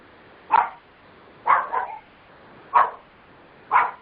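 A dog barks four times in separate short bursts spaced about a second apart, heard over a quiet conference call line with no talking.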